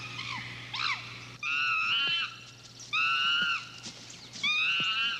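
Chimpanzee screams: repeated shrill, harmonic shrieks in bursts of about a second, loud and close, separated by short pauses, with lower hooting calls at the start.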